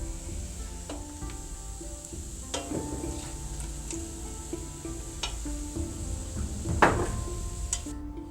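Shrimp and sauce simmering in a pan for pad thai, a steady close sizzle with scattered spoon clicks against the pan and a brief louder stir near the end.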